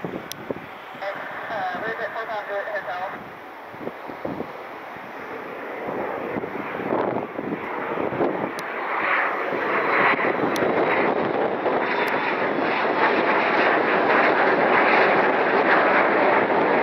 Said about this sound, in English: We got our first heavy jet inbound of the day. It's Delta Flight 229, A330-900 inbound from Paris.